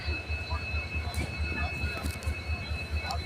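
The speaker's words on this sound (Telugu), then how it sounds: "2 బోగీలు వేసుకొని ట్రైన్ వస్తేనే చాలా ఆనందపడుతున్నారు జనాలు" A short two-coach train arriving at a village station, rumbling steadily close by with a rhythmic low pulsing of wheels over rail joints and a faint steady whistle-like tone above.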